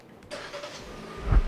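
A Kia Sonet SUV starts remotely from its key fob: a quiet click, then the engine catches and settles into a low idle heard from nearby.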